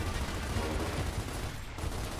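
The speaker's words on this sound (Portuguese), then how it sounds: "Não tô sabendo de onde que tá vindo os tiros" Rapid gunfire from the Gears of War shooter game rattles in dense, continuous bursts, fairly faint and muddy, with no voices over it.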